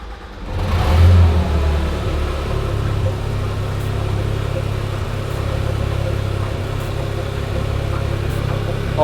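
A Porsche GT3 RS engine starts with a brief rev, then settles into a steady, low rumbling idle that continues close by for several seconds.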